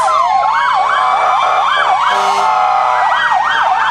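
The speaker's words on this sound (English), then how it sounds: "You had the lights and the sirens and everything." A loud, close police emergency siren wails up and down in rapid repeating sweeps, with a second steady siren tone underneath, at a parade.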